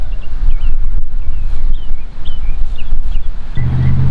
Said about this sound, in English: Wind's really starting to pick up.